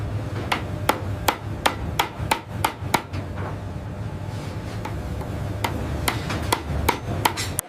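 Hammer blows ring out on copper as it is shaped, sharp evenly spaced metallic strikes in steady runs with a short pause midway, loud and close against a low background hum.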